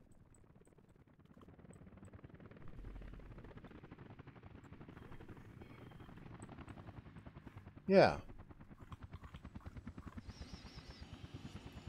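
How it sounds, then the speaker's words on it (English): Helicopters in Workers & Resources: Soviet Republic give a steady, low rhythmic rotor chop throughout, joined near the end by a faint higher whine, with a sharp sudden burst partway through and a brief spoken word. "So we got us some chopper action here."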